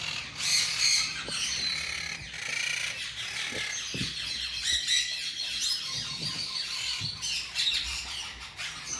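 A green monk parakeet breeder pair squawking loudly and repeatedly up close, harsh shrill calls tumbling over one another with little pause, a few lower clatters mixed in.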